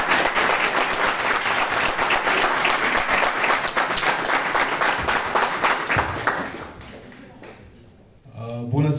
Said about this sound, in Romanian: Începem cu aplauze